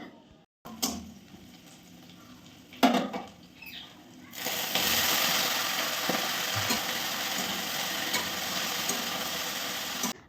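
Chopped onion drops into a hot pan partway through, setting off a sudden loud sizzle that continues steadily to the end, after a few quiet knocks and clatters.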